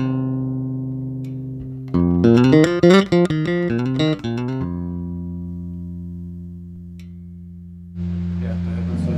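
A held note on a Simon Huber XJ-1T electric bass changes brightness as the treble switch is toggled, with a brief flurry of brighter notes in the middle, played close and clean.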